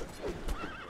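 A horse whinnies in the video game Conan Exiles, one rising, wavering neigh with a snort-like low burst near its middle, moderately loud against faint background game sound.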